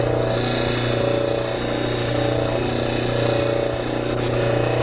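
A cabochon grinding machine running a 1200 grit wheel gives a steady, loud motor hum with a continuous grinding whir, even and unbroken throughout, with no talking.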